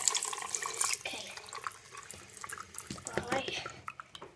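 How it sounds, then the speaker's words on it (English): Water pours from a tap into a container for a home science demonstration, splashing and trickling unevenly with small drips, fairly close, as a voice murmurs faintly underneath. "I'm gonna just put some water inside."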